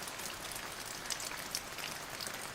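Steady relaxing rain with raindrops pattering down, an even, dense hiss with small scattered drip accents and no voices.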